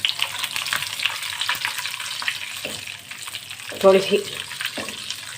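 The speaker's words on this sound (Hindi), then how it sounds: "साबुत लाल मिर्च 7 से 8, और इसमें कलौंजी डालेंगे, मेथी दाना, राई। ये थोड़ा सा हम इसको सौते कर लेंगे" Whole red chilies, nigella, fenugreek and mustard seeds sautéing in hot oil, a steady close sizzle with a brief louder flare, while someone speaks a few words.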